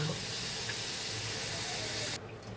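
Water poured into a hot pan of fish masala, a loud continuous hissing rush that cuts off abruptly near the end, brief and close, without speech.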